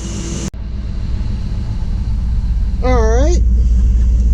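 Engine of a 1960 Chevy wagon runs with a steady low rumble throughout, close by, while a brief thump and a short spoken word break in early and a bright tonal sweep rises near the end.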